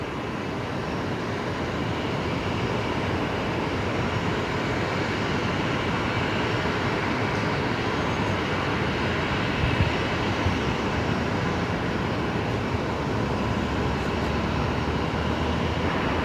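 A China Airlines Airbus A350-900 on short final at Brisbane Airport gives a continuous, even engine rumble at moderate distance, with no voices over it.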